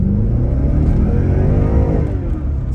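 Car in race mode with a Sprint Booster throttle controller pulling away hard, a loud, close engine roar with rising revs held steadily throughout and no voices.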